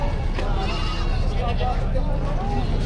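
Goats bleat repeatedly amid a noisy, crowded livestock market selling cattle, goats and water buffalo in Padre Garcia, Batangas, with people chattering loudly throughout.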